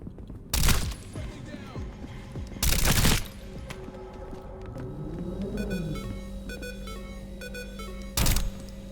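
Gunfire in the video game Transience, with a few loud, sharp bursts spaced several seconds apart over steady electronic music and ambient tones.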